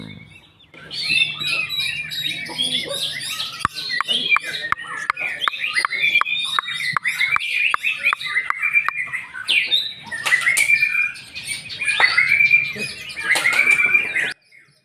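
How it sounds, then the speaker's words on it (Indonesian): A white-rumped shama of a contest-bred line sings loud, varied, rich phrases up close, continuous, lively and aggressive, with sharp clicks and chirps mixed through the song. "udah lihat ya penampilan murai batu pastol yang kita bahas seperti apa main di kelas dewasa"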